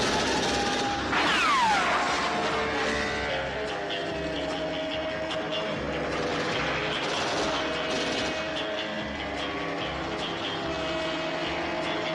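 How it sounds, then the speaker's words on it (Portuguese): A small portable helicopter's engine drones steadily with a whining pitch sweep early on, continuous and fairly close, no voices; from a James Bond film. "a pequena Nellie, o helicóptero portátil com que James Bond derrota seus inimigos."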